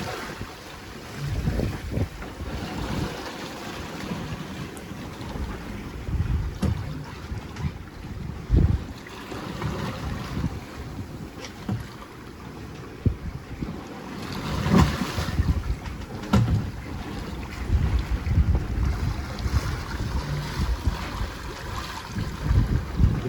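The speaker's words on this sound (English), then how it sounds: "The boat's starting to pick up speed, so I imagine the wind has started picking up." A sailboat at sea with the wind rising, steady gusty wind buffeting the microphone over rushing water and waves against the hull, with occasional louder knocks and thumps throughout.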